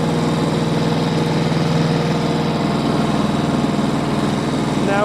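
A tractor fitted with a snow blower runs in a blizzard, its engine droning loud and steady at raised revs with a constant rough mechanical rumble close by throughout.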